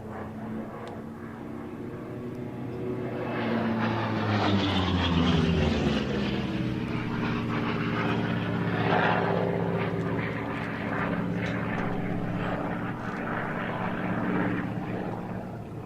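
A propeller airplane taxis at an airshow, its engine droning steadily and fairly close for the whole stretch, swelling slightly in the middle, with no talk over it.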